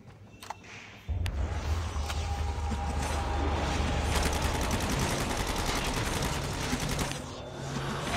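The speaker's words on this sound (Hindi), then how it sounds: "मशीन गन लगा दी मैंने।" Sustained machine gun fire in Call of Duty Zombies, a dense, loud burst of rapid shots that runs nearly unbroken for about seven seconds after a short quiet start.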